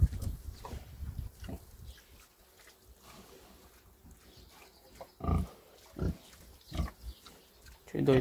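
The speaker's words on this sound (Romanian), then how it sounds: "Doi porci." Two pigs on a farm give a few low, close grunts in the latter half, mixed in with faint background noise and a voice speaking nearby.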